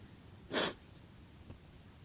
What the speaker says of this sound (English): That's just a sniff, because my nose is runny